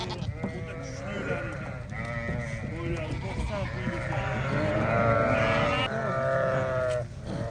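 Several Afghan sheep bleat repeatedly and overlap, loud and close, a continuous chorus of wavering cries.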